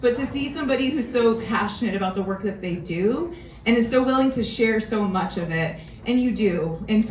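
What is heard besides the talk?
No distinct noise like a dog, phone or traffic.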